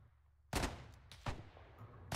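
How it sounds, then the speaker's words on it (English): Several loud gunshots crack out in Arma 3's World War II setting, a burst near the start followed by further scattered shots, each sharp and close against a quiet background. "they seem to be shooting our dead bodies"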